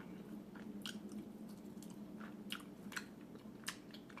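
Chewing on spicy Korean topokki rice cakes coated in hot sauce, soft close-up squishy mouth sounds with a few sharper crunching bites, quiet and steady with no talking.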